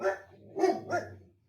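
A pet dog indoors gives three sharp barks, fairly close and moderately loud, with short gaps and then quiet.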